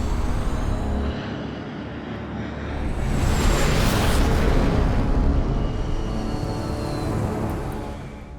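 Messerschmitt Me 262 jet fighter from World War II passing close by, a steady broadband jet roar that swells to a peak midway and then eases off slightly, loud with no voices.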